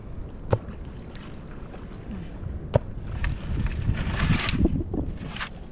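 A fishing boat crosses choppy, rough water where a net has been set, its wash and hull slap building into a broad, rushing swell with wind buffeting the microphone and two sharp knocks early on.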